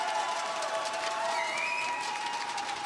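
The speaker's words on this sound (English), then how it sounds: "the crowd have definitely shown up today" A large crowd at a Rainbow Six Siege esports Major semi-final in Jönköping claps and cheers in a dense, sustained wash of applause with steady loudness throughout.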